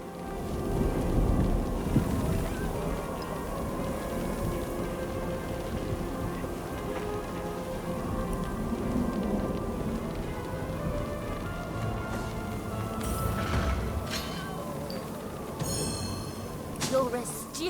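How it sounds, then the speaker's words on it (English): Thunderstorm with steady rain in the fantasy role-playing game Divinity: Original Sin, a continuous wash of rainfall with low rumbling swells and a louder thunder burst near the end, under talk. "You must be mad to venture out in this storm"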